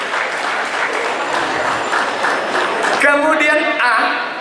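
Crowd applause at a teachers' association inauguration ceremony, steady clapping for about three seconds before a voice starts speaking over the fading claps.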